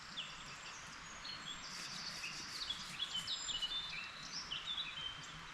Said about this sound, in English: The bird song is absolutely tremendous.